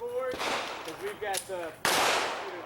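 A few sharp pistol shots from a 686 handgun at an outdoor IDPA shooting match, each a loud crack with a short tail, while someone talks in between.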